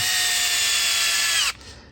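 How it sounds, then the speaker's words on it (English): A power drill spins a bent tie rod link for a scale crawler build, a loud steady high whine with a wobbling tone that slows slightly before cutting off abruptly near the end. "if you put a bent link into a drill"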